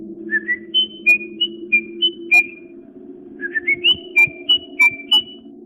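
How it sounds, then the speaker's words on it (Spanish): A person whistles a short melodic tune in a series of clear, pitched notes, pausing midway before repeating the phrase, heard close and distinct over a steady low hum in an eerie horror-story setting. "Sonaba exactamente igual que el silbido que solía hacer Leo."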